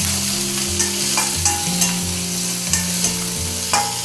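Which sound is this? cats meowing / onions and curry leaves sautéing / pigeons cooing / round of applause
onions and curry leaves sautéing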